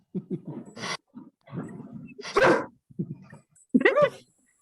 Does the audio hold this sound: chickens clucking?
no